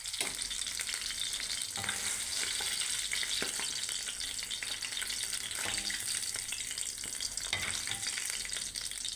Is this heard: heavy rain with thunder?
no